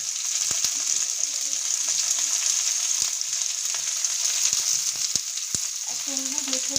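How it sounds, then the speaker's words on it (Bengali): Panch phoron spices with extra fennel frying in oil for a village-style sea fish jhal, a steady bright hiss with scattered crackles and pops close by, no voices. "ফোড়নটা ভেজে দেবো"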